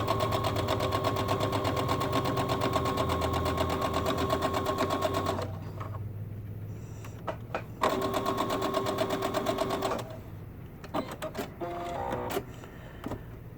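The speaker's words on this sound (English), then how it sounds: "So I'm going to do this straight stitch all the way around." A sewing machine runs a straight stitch around a rounded welder cap crown, humming loud and steady for about five seconds, then starting again in a second steady run between quieter pauses with small clicks.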